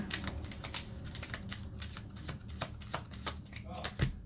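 Tarot cards shuffled and handled at close range, a steady run of crisp riffling clicks and slaps with a few sharper snaps, alone without talk.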